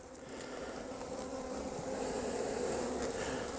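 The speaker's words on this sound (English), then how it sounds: "Get some smoke on those bees." Honeybees in an opened hive during a winter inspection make a steady, low, continuous buzzing drone that holds at an even level and swells slightly toward the end.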